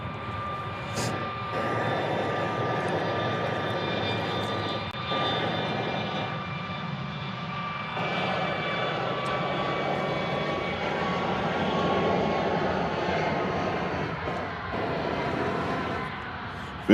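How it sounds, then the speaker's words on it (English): A Southwest airliner at Nashville International Airport spools up for takeoff, its steady engine roar loud and sustained, with a broad, even rumble and a faint high whine throughout, no voices present. "As Southwest Flight 244 is getting ready to take off and head to Denver."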